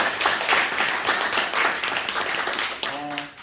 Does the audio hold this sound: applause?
yes